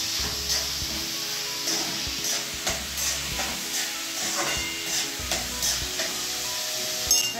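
Chopped onions frying over fairly high heat in a pan for a spicy baby prawn masala, with a steady sizzle and repeated scraping stirs of a spatula across the pan, close and without talk.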